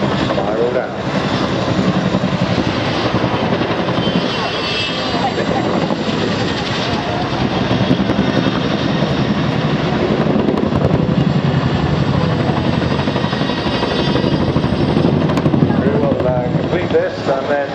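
An aerobatic display aircraft at the Eastbourne Airbourne airshow roars continuously overhead, a loud sustained engine drone that swells and shifts as it manoeuvres, with a commentator talking over it throughout.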